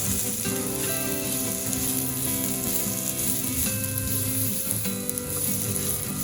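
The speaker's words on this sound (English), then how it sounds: "Stir it, let the onions cook for a bit." Sliced onions frying in a pan crackle and sizzle steadily and close up, with occasional stirring scrapes and no voices.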